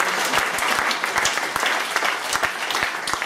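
A ranch event crowd applauds the sound and lighting crew, a loud close wall of clapping with crisp individual hand claps popping out, steady for the whole stretch.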